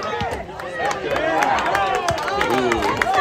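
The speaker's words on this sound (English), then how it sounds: "You can hear the crowd yelling, kick it out." A crowd at a rugby match shouts and yells in a dense, continuous roar, with many overlapping voices near and far.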